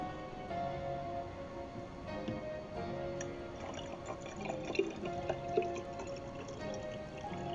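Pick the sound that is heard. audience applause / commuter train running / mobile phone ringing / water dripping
water dripping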